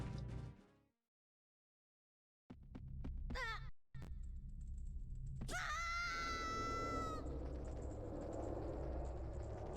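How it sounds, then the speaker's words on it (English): Link's yell in the video game Majora's Mask, a short strained shout followed by a sustained, tonal cry over a low game hum, loud and close with no talk. "I like how Link only yells for so long."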